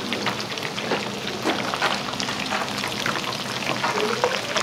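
Deep-frying in a busy Japanese diner kitchen serving katsudon and tempura: a dense, continuous crackling sizzle of oil, loud and close, with scattered pops throughout.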